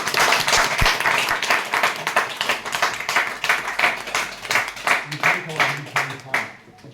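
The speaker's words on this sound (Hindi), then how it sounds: "ताली बजा के एक बार सब लोग" An audience claps together at a Congress party gathering in Rewa, steady rhythmic hand claps that carry on over several seconds and then taper off toward the end.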